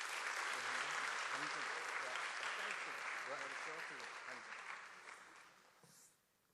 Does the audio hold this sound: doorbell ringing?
no